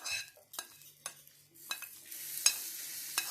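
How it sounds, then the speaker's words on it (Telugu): Tempering spices sizzle in hot oil as they are tipped into chana dal chutney: a soft, fairly faint hiss broken by several sharp clinks and stirring knocks of a utensil, with no one talking. "పోపు దీంట్లో వేసేసుకోనండి"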